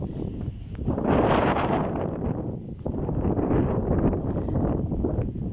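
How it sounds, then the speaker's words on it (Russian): Strong wind gusts across an open field in a storm, roaring into the microphone in broad rushing surges that swell and ease over a few seconds, with grass rustling beneath. "Тут такого ветра я давно не видел."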